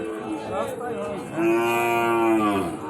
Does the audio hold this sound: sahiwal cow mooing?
yes